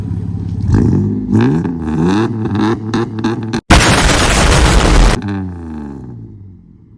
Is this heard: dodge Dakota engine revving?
yes